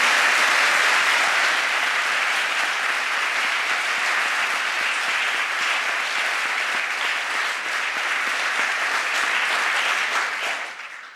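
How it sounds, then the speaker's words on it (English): A church outreach audience claps in a dense, sustained round of applause for about ten seconds before it fades out at the end. "how about a round of applause for Chris and Father Jim?"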